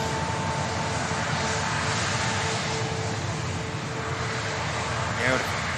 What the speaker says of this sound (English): Another aircraft we should see departing before show end.